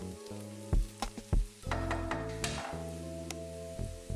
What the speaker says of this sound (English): Allow this to cook for about 5-6 minutes or until the onions are translucent.